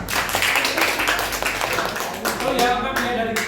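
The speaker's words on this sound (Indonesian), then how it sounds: "tepuk tangan untuk kelompok 5" A classroom audience claps for a student group in an Indonesian lesson, with quick, close clapping that runs loud and continuous. Voices talk over and between the claps.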